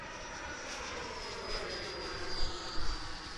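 An FMS F-86 RC model jet in flight, heard as a faint, steady whine of the electric ducted fan passing at a distance, swelling slightly louder in short bursts near the end, with no talk.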